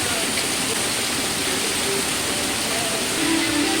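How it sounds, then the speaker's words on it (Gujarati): Heavy rain pours down on a farm field, a dense, steady roar of broadband hiss with no breaks, loud and close throughout. "જોરદાર વરસાદ ચાલુ થઈ ગયો છે ભયંકર વરસાદ વરસે"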